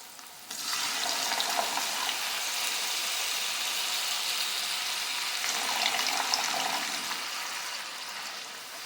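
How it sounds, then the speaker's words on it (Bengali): Water poured a little at a time into a pot of Bengali pomfret fish curry, giving a steady, close hiss of liquid hitting hot oil and gravy that rises after a half-second and fades slightly near the end, with no talk. "এবার অল্প অল্প জল দেব।"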